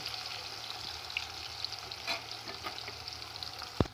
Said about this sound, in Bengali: দেবো কেটে রাখা রিং পেঁয়াজগুলো তেলের সাথে খুব ভালো করে আমি একটু নেড়ে চেড়ে ভেজে নেব